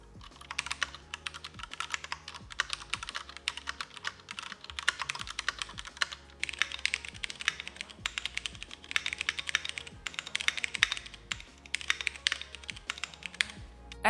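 Continuous typing on a Cherry MX 3.0 mechanical keyboard, with steady, closely spaced key clicks and clacks at close range and no talking.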